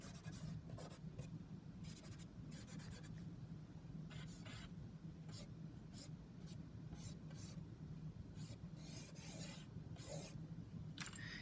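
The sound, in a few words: erasing pencil guide lines on a drawing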